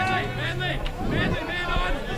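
Crowd chatter at a Weldon Oval Australian rules football match between Manly Warringah and East Coast Eagles, a steady murmur of voices under a commentator talking throughout.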